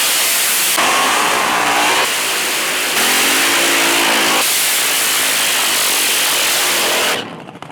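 A loud, roaring Top Fuel drag car does a burnout at a drag strip, a sustained harsh engine blare and tyre scream that shifts in pitch and cuts out at the end.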